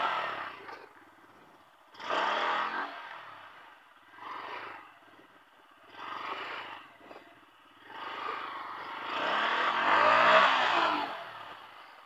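Bajaj Pulsar N160 FI dual-channel ABS motorcycle revving in repeated bursts, with a longer, louder rev near the end, close by and clear, with no talk.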